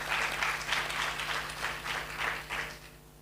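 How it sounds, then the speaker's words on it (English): Audience applause at the close of a panel talk on chronic disease behaviour change education, a steady wash of many hands clapping for about three seconds before fading at the end. "let's do the applause first"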